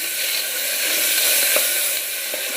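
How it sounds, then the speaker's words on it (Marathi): Finely chopped onion hits hot oil in a pan and sizzles loudly and continuously, a bright, close hiss with a few small pops and crackles, and no voices over it. "तेल चांगलं तापलं की त्यात एक बारीक कापलेला कांदा टाकून घ्यायचा आहे"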